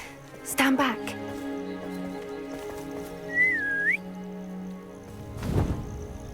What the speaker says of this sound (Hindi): इसने सीटी मारकर किसको बुलाया?